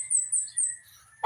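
Farm chickens give brief clucking calls, a couple of thin, high notes followed by a sharp short cluck close by, with no voices.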